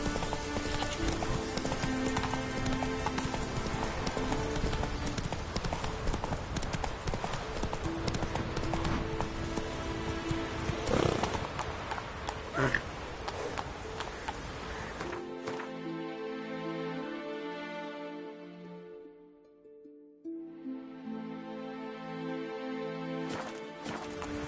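Hooves from a horse in The Witcher: Wild Hunt give a rhythmic, steady clip-clop, loud at first and then thinner against a quieter background.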